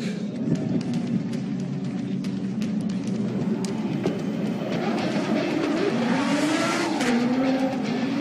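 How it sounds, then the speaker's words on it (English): A loud 2JZ drift car engine revs hard and drones continuously, with tires squealing and skidding as it rises in pitch toward the end, during Formula Drift qualifying at Long Beach. "Here in the 2JZ engine as tuned by Nameless Performance."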